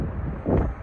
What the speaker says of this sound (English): Sorry about the wind. It's very windy here.